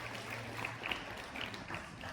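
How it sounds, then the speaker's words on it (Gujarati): Audience applause at a Lions Club Republic Day ceremony held at a school, a steady mass of clapping hands sustained throughout, moderately loud with no voices over it. "આપણે એમને તાળીઓથી વધાવીશું"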